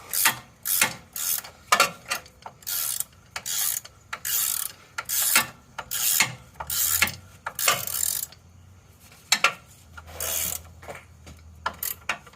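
Ratchet wrench tightening a front motor mount bolt on a 2003 Honda Element with automatic transmission: close bursts of rapid mechanical clicking, each lasting about a second, separated by short pauses.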